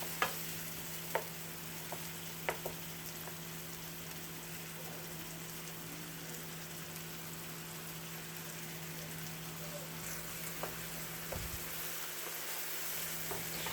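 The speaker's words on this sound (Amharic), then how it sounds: "ቶሎ ቶሎ ጠበስበስ እያደረግን እንላለን።" Tomatoes frying in a pan while tofu scramble is prepared, giving a steady, even sizzle throughout with a few faint clicks, no voices.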